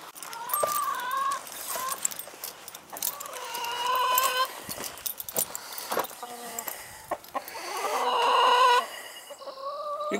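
A backyard flock of chickens clucks and squawks in short, overlapping bursts close by, with one hen's longer cackling calls rising above scattered rustling and clinking noises, and no voices.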